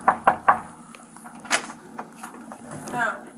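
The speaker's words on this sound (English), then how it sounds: "The officers arrived at the apartment building and knocked on Mr. Braden and Ms. Odom's door." Police officers rap on an apartment door in a building, three quick sharp knocks followed by a few softer knocks and thumps, fairly close.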